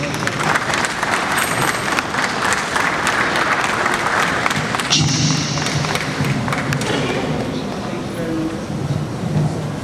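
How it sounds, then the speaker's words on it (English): Audience applause at an architecture awards ceremony, sustained and steady throughout, with an announcer's voice over it. "A huge round of applause for that special"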